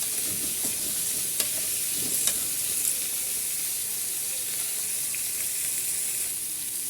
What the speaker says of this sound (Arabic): والمكرونه بنحمرها.